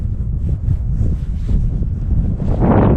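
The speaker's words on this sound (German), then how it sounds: "Also heute ist auch ganz schön windig." Strong, cold wind buffets the microphone on an abandoned former military airfield, the old Sembach Airbase, a steady loud roar with gusts that swell louder near the end, no voices.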